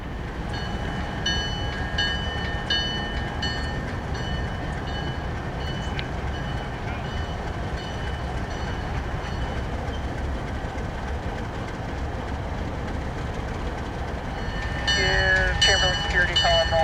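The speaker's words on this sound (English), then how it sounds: "the trademark ALCO Chug rang through the crisp morning air" Several ALCO diesel locomotives chug on a crisp morning at a railway yard, a loud, steady, throbbing engine rumble that continues throughout, with brighter horn-like tones rising near the end.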